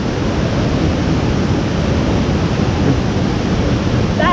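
Roaring water of Kuang Si Falls near Luang Prabang, a steady, loud broadband rush that holds constant and close throughout with no gaps.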